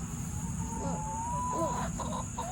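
Chickens cluck and warble close by in a chicken coop in short bursts, over a steady low hum and some background noise.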